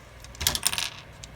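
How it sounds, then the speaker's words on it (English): Metal decorative cutting scissors, including zigzag and postal-edge shears, are handled on a table, giving a short cluster of close clinks and jangles in the middle of an otherwise quiet stretch. "I have a few pairs of decorative cutting tools,"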